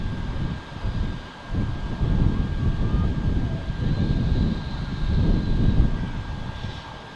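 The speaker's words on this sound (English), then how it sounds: "EasyJet from Portugal coming in, says Kim Twister." An EasyJet airliner on approach to Manchester Airport gives a steady, moderately loud engine roar that swells and dips, heard from outdoors with no talking.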